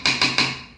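A metal lid set onto a cooking pot of egg and polao rice, three quick ringing clanks in rapid succession, close and clear with no talk.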